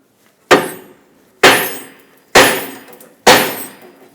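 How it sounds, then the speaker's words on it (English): Four sharp metallic hammer strikes on a steering knuckle of a 2005-2010 Chrysler 300 ring out at an even pace, each blow clanging loudly then decaying quickly. "we'll take a hammer and tap right here on the knuckle"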